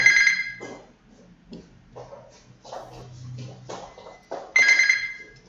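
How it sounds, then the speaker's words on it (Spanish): A telephone rings with a bright trilling bell, one burst at the start and another near the end, while someone speaks Spanish quietly in between over a faint low hum. "el teléfono"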